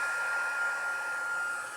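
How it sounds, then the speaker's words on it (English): Steady, even blowing hiss of a heat gun running close by, with no talking. "We're going to heat the gun up first."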